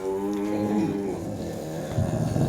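A person's voice imitates a deep-voiced cow with one long, low, guttural moo that holds steady for about two seconds, close and fairly loud.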